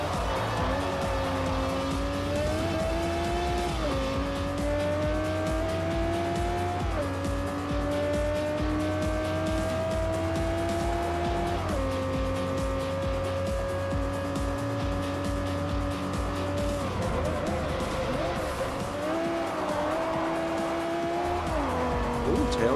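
A Lexus LFA tears around the track in Forza Motorsport 4, its engine wailing loudly as it climbs and drops through gear changes, with tires squealing through corners across a long, continuous run.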